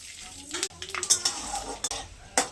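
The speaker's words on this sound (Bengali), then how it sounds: "সর্ষের তেল গরম হয়ে গেছে, শুকনো লঙ্কা দিলাম, তেজপাতা দিলাম, পাঁচফোড়ন দিলাম" Dried chilli, bay leaf and panch phoron hit hot mustard oil in a pan and crackle into a lively sizzle, broken by stirring scrapes and a few sharp metallic clinks of a utensil against the pan.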